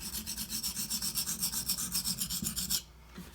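A Benchmade Anthem knife blade is stroked back and forth on a Shapton Pro sharpening stone, a rhythmic rasping rub repeating about seven times a second, close and quiet, then stopping abruptly.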